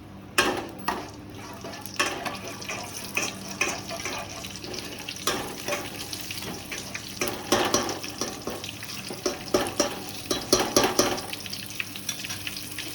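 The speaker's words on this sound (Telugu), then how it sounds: "1 స్పూన్ ఆవాలు, 1 స్పూన్ జీలకర్ర వేసుకొని ఫ్రై చేద్దాం" Mustard seeds and cumin spluttering in hot oil in a home kitchen pan, a steady close crackle broken by repeated sharp popping bursts through the whole stretch, with no voices over it.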